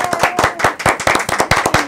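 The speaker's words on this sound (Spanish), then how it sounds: "Un aplauso." A short burst of hand clapping from a small group, quick and steady, fairly close and loud, with no talking over it.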